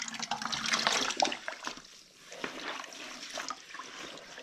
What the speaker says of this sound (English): So I'm going to put the drying towel in